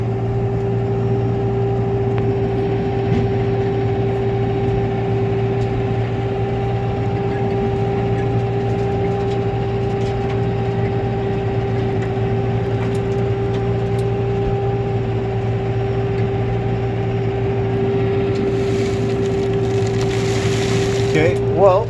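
A snow blower engine running steadily while clearing a farm driveway, a loud, constant droning hum with a strong low tone that holds throughout, close to the listener, with a brief clatter near the end.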